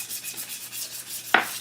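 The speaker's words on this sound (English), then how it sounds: "I'm just now going to sand off the rough edges" Rough wood edges are hand sanded before staining, a soft repetitive rubbing swish that pulses steadily at low level, with one sharper scrape near the end.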